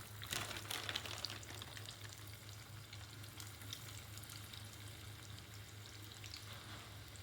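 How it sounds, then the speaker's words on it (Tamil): French fries frying in hot oil as an after-school snack, a steady close sizzle with crackling bursts and a constant low hum behind it, no voices. "இன்றைக்கி ஸ்நாக்ஸ்க்கு ஃப்ரெஞ்ச் ஃப்ரைஸ் தான் செஞ்சு கொடுத்தேன்."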